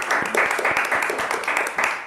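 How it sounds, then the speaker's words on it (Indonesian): Applause for three Islamic quiz competition champions at a junior high school, a dense burst of clapping with sharp individual claps, steady and fairly loud for a couple of seconds. "tepuk tangan sekali lagi"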